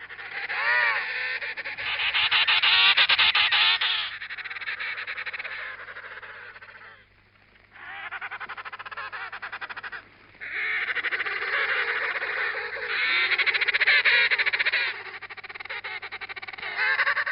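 Loud trumpeting, warbling bird calls in long bursts separated by short pauses, rich and brassy, with one voice calling after another.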